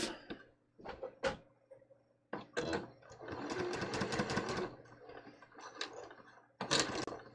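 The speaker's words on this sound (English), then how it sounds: "So I'm going to stay stitch 3/8 of an inch." A sewing machine stay stitches a bias-cut bateau neck blouse seam in a quick run of short, stuttering bursts, then a longer steady whir, then one last short burst.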